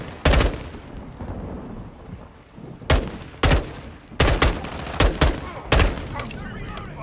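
Gunfire in a Call of Duty: Modern Warfare II campaign mission: sharp bursts of rifle shots crack loudly in short clusters over several seconds against a low background of battle ambience.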